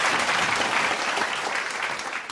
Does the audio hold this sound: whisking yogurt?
no